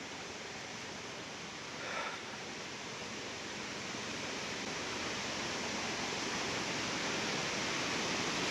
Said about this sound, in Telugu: ఇక్కడికి వచ్చాం, జరీ వాటర్ ఫాల్స్ చూడొచ్చు. This is the false.